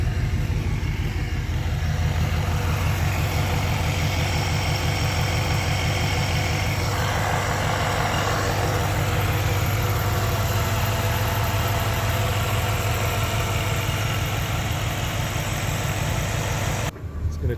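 A vehicle engine idles steadily and close by, a continuous low rumble with a pulsing beat that holds even for about seventeen seconds before cutting off abruptly near the end.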